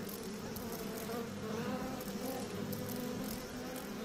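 Mosquitoes whine and buzz steadily in the horror game Outlast 2, a dense, continuous insect drone that holds at the same level throughout with no voices.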